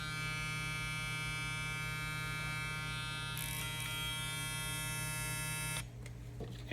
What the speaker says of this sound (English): This is the sound of the clipper.